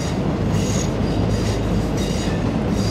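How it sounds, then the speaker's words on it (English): A passenger train bound for Kisumu rolls past close by, a steady loud rumble of wheels on rails with rhythmic clatter and faint squeal, no voices over it. "this train is going to Kisumu"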